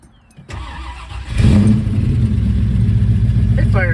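A 1968 Mercury Cougar's V8 engine cranks and catches, then settles into a deep, throaty rumbling idle that stays loud and steady.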